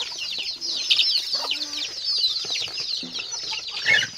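Hens and young chicks cluck and peep on a small farm poultry setup, a continuous dense chorus of high chirps with occasional deeper clucks, close and fairly loud without talk.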